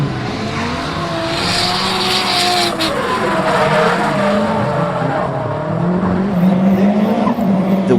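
A Nissan S15 Silvia drifts with loud, continuous tire squeal and a strained engine howl sweeping up and down in pitch, close and steady throughout.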